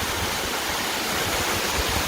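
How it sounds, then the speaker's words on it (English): Waterfall near Ta Van village in Sa Pa, Vietnam, pouring as a steady, dense rush of water that fills the whole clip without a break, close and continuous with no voices. "The waterfall flows to the small village"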